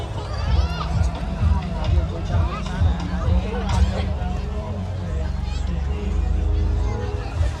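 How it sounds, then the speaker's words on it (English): Dense crowd babble at a beach party in Kampot, Cambodia, many overlapping voices and movement close around, steady and loud throughout with occasional sharper shouts. "I finally squeezed my way out of the crowd."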